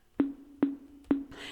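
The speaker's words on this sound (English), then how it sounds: "the next thing I added was this snare drum that sounds like this" Three tonal snare hits ring out alone, each with a short pitched sustain, followed by a brief noisy swish at the end.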